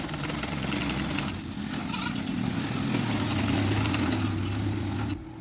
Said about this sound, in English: So you can see how I'm top stitching it.